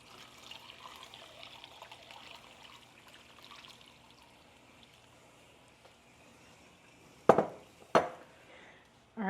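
Tap water runs steadily into a big Dutch oven pot for cooking black-eyed peas with ham, a soft, low trickle and splash under quiet room noise, ending in a few sharp clunks of the pot.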